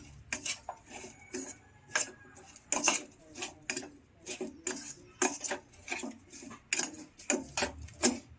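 Onions mixed by hand with salt, coriander powder and chicken masala in a bowl for onion samosa filling, giving soft irregular squelching and tapping strokes, close and fairly quiet, with no talk.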